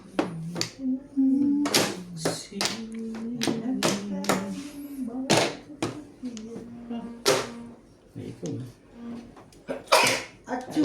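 People talk in short bursts over a mahjong game, with sharp breathy outbursts that could be sneezes mixed among the voices, close and fairly loud.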